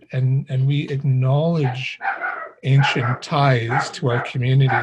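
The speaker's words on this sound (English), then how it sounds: "I apologize for my dog." A dog barks indoors during a spoken dialogue session, its barks mixed under continuous close speech from a person talking throughout.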